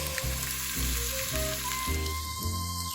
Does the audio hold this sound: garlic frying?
yes